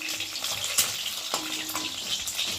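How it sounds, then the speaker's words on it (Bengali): Eggs fry in hot oil in a pan, producing a close, continuous sizzle broken by a few brief scraping touches. "তো চলো এখন আমি ডিমগুলোকে ভাজবো"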